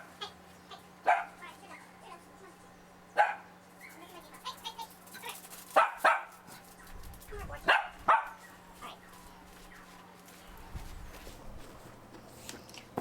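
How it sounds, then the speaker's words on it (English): A dog barks several times indoors at a moderate distance, sharp separate barks spaced irregularly, with footsteps and shuffling between them over a steady low hum. "Excuse me while I go regulate my dog"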